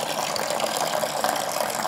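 Cold water running from a household tap at low pressure, a steady, hissing trickle heard close and continuous throughout, with no voices.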